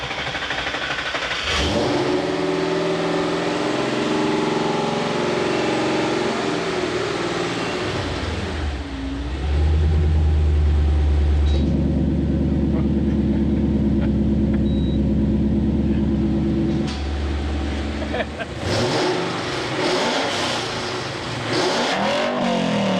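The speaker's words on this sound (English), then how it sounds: "I hated the sound of the exhaust" A Ford Mustang's exhaust revs loudly, the engine swelling into a deep sustained roar mid-clip, then dropping back to idle rumble before another burst, with no talk.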